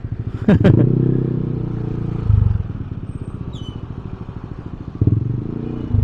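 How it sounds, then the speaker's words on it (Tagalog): A motorcycle exhaust idles close by with a loud rapid putter, punctuated by three sharper revs or blips, amid light traffic clatter. "Sukatin mo yung ingay ng tambucho ko."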